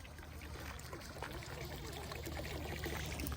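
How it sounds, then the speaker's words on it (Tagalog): Water trickling and running beside a hiking trail near Diamond Hill, Hong Kong, a steady, fairly faint wash of flowing water that continues throughout with no one talking. "Ang ganda nga na, may tubig dito."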